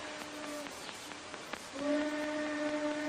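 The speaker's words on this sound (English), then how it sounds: "Train whistle." A faint, distant train whistle sounds in short steady tones, then a longer sustained blast rises over a hissing background.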